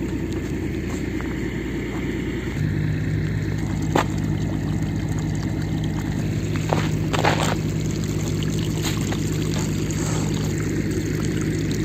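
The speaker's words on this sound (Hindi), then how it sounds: "यहाँ ये जो है ना पानी आ रहा है।" Irrigation water pours and gushes from an opened outlet into a date palm field, a loud steady flow with a low pump-like hum joining after a few seconds and occasional splashes.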